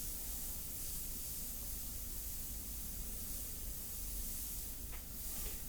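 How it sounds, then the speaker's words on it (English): An airbrush spraying very diluted India ink onto paper at low air pressure, a faint, steady airy hiss that continues without a break and has no voices over it. "Make sure the airbrush is working perfectly, no tip dry."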